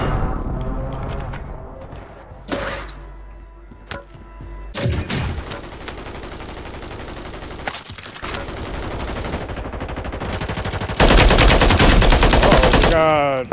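Sharp single shots and bursts of automatic gunfire in the Call of Duty Rebirth Island video game, spread across the clip with a heavy sustained volley near the end, with game sounds between.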